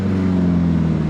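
Alfa Romeo 4C engine fitted with a Capristo exhaust, idling loud and close with a steady deep rumble throughout, the car nearly at a stop.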